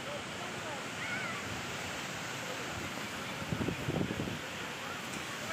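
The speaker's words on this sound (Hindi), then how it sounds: "ये जो समंदर का शोर था, बाप रे, शोर ही कुछ अलग था" Continuous roar of sea waves breaking on the beach at Digha, India, with wind noise and faint voices briefly audible partway through.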